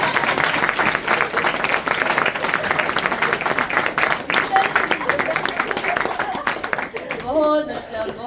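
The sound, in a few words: applause for the soldiers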